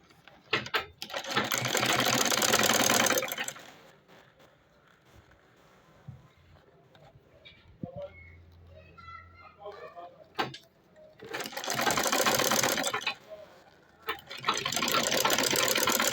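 Home sewing machine top stitching a fabric bucket handbag, running in steady rattling bursts of a few seconds each, separated by quieter pauses with handling sounds and a brief voice.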